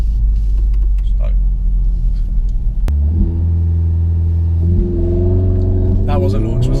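A Mercedes GLA45S AMG engine builds revs against the brake and then launches, a loud close rumble whose pitch climbs steadily as the car accelerates, with voices talking over it.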